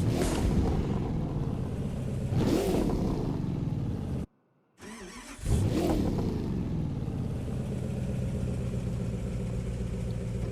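A car engine in the racing game The Crew 2 starts up and idles loudly with a deep rumble, drops out briefly, then fires again with a revving burst before settling into a steady idle.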